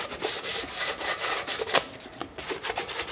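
Close, loud rhythmic sanding of a car subframe cradle from a BMW E34, with repeated back-and-forth rasping strokes over about three seconds and no talking.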